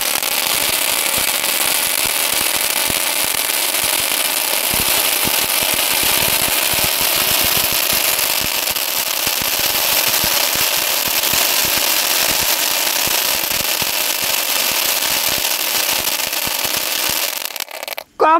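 A Power Point Diwali firecracker lit and burning loudly, a dense continuous crackling and hissing shower that holds steady for about seventeen seconds before cutting off abruptly at the end.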